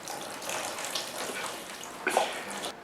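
Water pours from a container onto seeds sitting in egg carton cells, a soft, steady trickling and splashing that stays faint and close, ending with a brief louder splash near the end.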